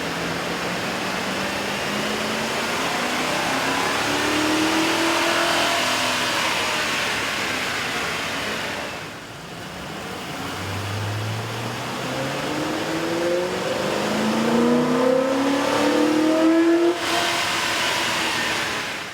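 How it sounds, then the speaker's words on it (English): A 2005–2008 Ford F150 5.4L V8 with an AEM cold air intake revs loudly and steadily on a dyno, pitch climbing through the gears, dipping briefly, then rising again in a long sustained run. "a comparison of the sound of the truck on the dyno with the stock OEM system"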